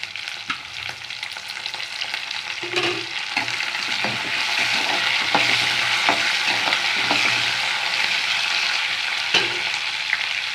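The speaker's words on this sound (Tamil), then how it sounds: "அஞ்சு நிமிஷம் வந்து நல்லா வதக்கி வச்சுக்கணும்" Dried red chillies and curry leaves sauté in hot oil for a Tamil mudakathan keerai thuvayal, a steady close sizzle with scattered clicks of a spoon stirring through the pan, no voices.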